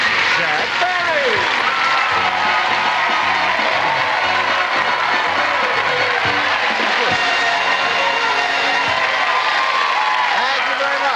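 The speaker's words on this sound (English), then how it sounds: "I don't know if that applause is for me" A game show studio audience applauds loudly and steadily, a dense sustained clapping with a few cheers and whoops mixed in, while a voice talks over it.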